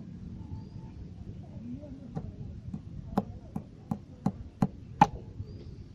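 Sharp metal strikes as an iron nail is driven into a tubeless motorcycle tyre treated with anti-puncture sealant gel, about eight taps speeding up and growing louder toward the end, close by over a low background murmur.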